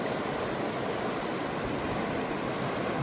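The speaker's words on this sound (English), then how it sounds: "Beautiful spot here along the river." River water flows steadily beside a hiking trail, a continuous broadband rush heard close and alone, with no talk.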